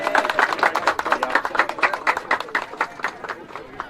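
Clapping from players and coaches for a youth 7v7 football national championship team at a Championship Sunday event, uneven rhythmic hand claps close by with shouting voices mixed in.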